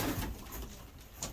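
Pigeons coo softly during pairing in a loft, low murmuring calls against a rustling background with a brief brighter note near the end.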